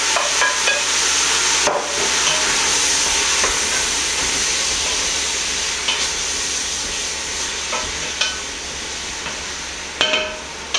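Meat for a mega-meat chili sizzles loudly in a hot pan while it is stirred back in, a steady broadband hiss with scraping and a few sharp clacks of a utensil against the pan.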